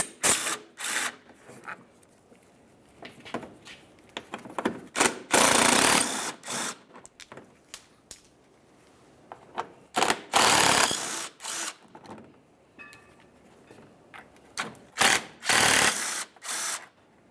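Ratchet loosening 8mm-headed screws that hold a plastic trim panel on a 2003-2011 Mercury Grand Marquis, heard as rapid clicking bursts and short scraping runs repeated across the span, close and fairly loud.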